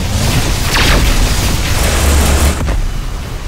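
Spaceship broadside cannons fire in Rebel Galaxy as a heavy, booming rumble with a few whooshing energy bursts layered on top, loud and sustained before easing slightly near the end.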